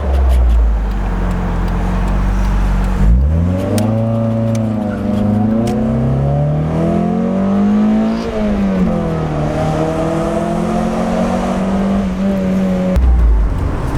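A 1991 Mazda Miata's engine roars loudly, its pitch climbing through the gears with each shift, steady and close throughout.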